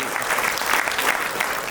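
An audience at a poetry mushaira in Abu Dhabi claps in a dense, continuous burst of applause, loud and even from start to finish, with no voices over it.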